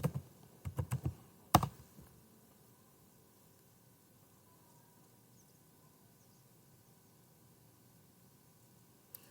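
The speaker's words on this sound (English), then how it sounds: "open command prompt and type Flutter Doctor again." A few quick keystrokes on a computer keyboard while typing a Windows command-prompt command, in a short cluster near the start and then a quiet, near-silent stretch with one faint click at the end.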